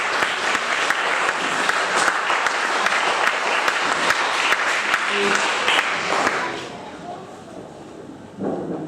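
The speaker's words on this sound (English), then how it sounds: "Let's give Ernest a round of applause" Audience applause for Ernest, an author, at a talk on raising financially savvy kids: dense, steady clapping from a large room, loud and continuous, then tapering off near the end.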